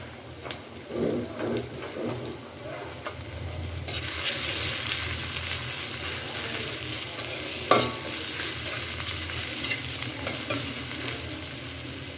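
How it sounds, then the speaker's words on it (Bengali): Chopped onion and garlic fry in mustard oil. Faint stirring and clatter give way to a loud, bright, continuous sizzle as the pieces hit the hot oil, with occasional spoon scrapes and crackles on top. "দিয়ে দিলাম সরিষার তেল পেঁয়াজ রসুন কুচি"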